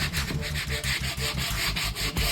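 An oak screw plug with PVA glue worked into it is sanded in quick, rhythmic back-and-forth scrubbing strokes, close and fairly loud.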